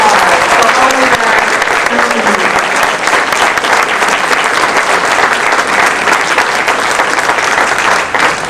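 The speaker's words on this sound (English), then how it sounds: "So another louder round of applause for all of our" Honorees at a Hall of Fame induction ceremony receive a loud, sustained round of applause from the audience. A voice is heard briefly at the start before the clapping fills the room evenly.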